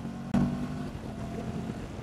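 Low and fairly faint, a Benelli TRK702 motorcycle engine hums steadily as it accelerates uphill on a winding mountain road, carrying luggage and a heavy rider, with a brief thump near the start.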